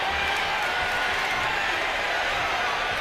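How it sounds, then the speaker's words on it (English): A live pro-wrestling crowd in New York roars steadily, a dense continuous wash of cheering and noise, with a commentator talking over it. "The crowd, look at the crowd. They're just into it."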